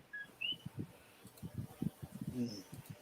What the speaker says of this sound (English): the chirping you guys hear in the background are frogs